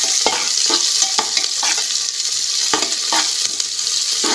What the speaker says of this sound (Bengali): আস্তে আস্তে করে কষাবো পেঁয়াজটা।